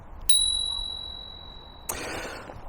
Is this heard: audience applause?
no